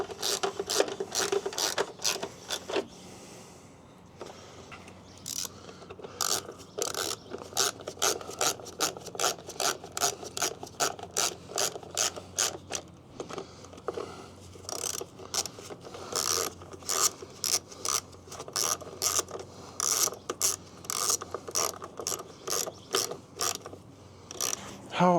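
A ratchet tightens an 8mm bolt on an aluminum carburetor of a Kohler engine on a Husqvarna machine. Dense runs of rapid ratcheting clicks come close up, broken by short pauses.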